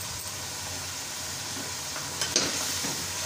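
Meat and softened tomatoes sizzle steadily in a pan for desi bhuna gosht as crushed red chillies go in, a constant close frying hiss with a few stirring scrapes near the end.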